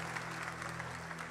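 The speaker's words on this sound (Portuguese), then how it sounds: "os que podem, tomem seu assento aplaudindo a Jesus, porque Ele é bom." A church congregation claps steadily at a men's conference worship service, a dense, even wash of applause that holds at a low, somewhat distant level over a faint background hum, with no pause for the whole moment.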